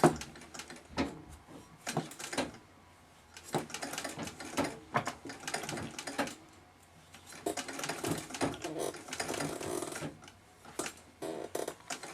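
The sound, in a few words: treadle-powered Singer 66 sewing machine running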